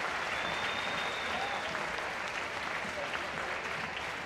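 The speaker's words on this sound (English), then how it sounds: "Big round of applause for these guys." Steady applause from an audience honoring Vietnam veterans, a dense, even wash of clapping that holds fairly quiet and distant throughout with no break.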